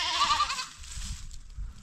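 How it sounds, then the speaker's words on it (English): Goats bleating at a farmyard in Africa, a short strained call near the start, then fainter low shuffling and rumbling with no talk. "And I think it's all goats over here."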